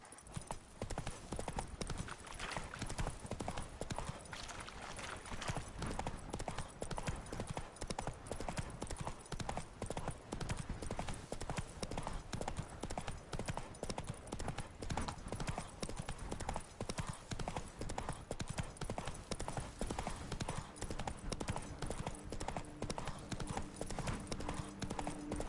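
Horse hooves galloping in Witcher 3: Blood and Wine, a steady rapid clip-clop that runs loud and continuous throughout, with a brief rider's shout and an occasional whinny.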